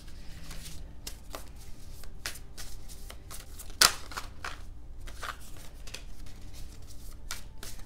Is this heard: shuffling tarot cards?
yes